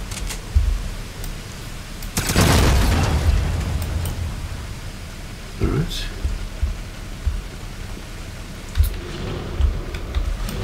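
A grenade goes off in Wolfenstein (2009) at the Dig Site: one loud, broad roaring blast about a second long that trails off into rumble, with smaller impacts and someone speaking around it.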